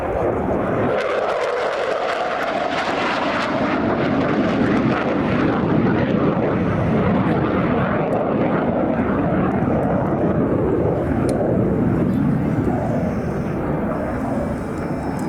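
An F-16 fighter jet flies at the Royal International Air Tattoo air show, a loud, sustained roaring engine rumble that fills the air for the whole stretch, with a voice speaking faintly over it.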